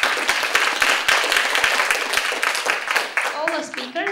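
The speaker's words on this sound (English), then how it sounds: "So please give the big applause to all the speakers." Audience applause closing a session at a healthy-aging and biomarkers conference, a dense wash of clapping sustained throughout, with voices and some tonal chatter emerging near the end.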